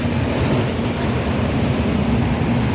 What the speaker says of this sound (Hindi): ट्रैफिक भी एक कायदे से जा रही है